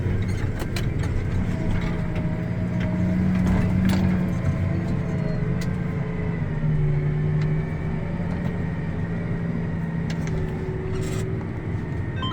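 A farm tractor working a field at the start of the 2023 growing season, braking and turning around: a steady, close engine drone and mechanical whir with faint clicks and rattles throughout, no talking.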